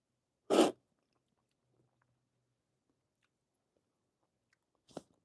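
Freshly roasted coffee beans crunched between the teeth, one sharp close bite near the start and a second quieter crunch several seconds later, with near silence in between.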